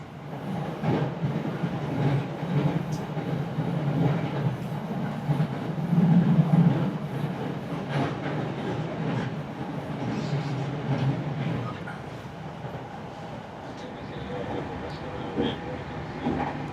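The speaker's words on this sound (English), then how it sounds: "This is the local train bound for Maibara" A Japanese local train heading for Maibara rolls along with a steady low rumble and faint clickety-clack, heard from inside the carriage, with passengers' voices now and then.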